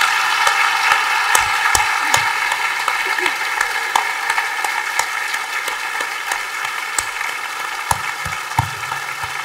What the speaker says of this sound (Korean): 주님 앞에 감사의 박수 한번 드리겠습니다